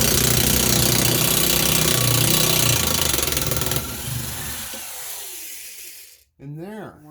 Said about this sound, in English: I have a vintage Craftsman impact gun from, I don't know, a long time ago.